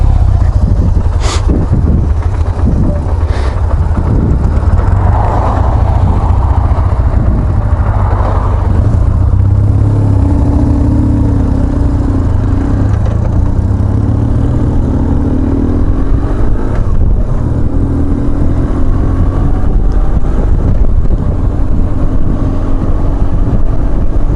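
A vintage 1967 BMW R60/2 motorcycle engine running close by, a steady low rumble throughout with occasional revs, with wind buffeting on the microphone.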